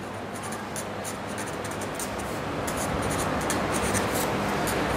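A pen scratches across paper in a steady, continuous stream of close, soft strokes while a scale drawing for a force problem is worked out by hand. Nothing else is heard.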